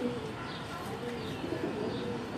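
A Penda pigeon coos softly with low murmuring calls at close range, faint and steady over quiet room background.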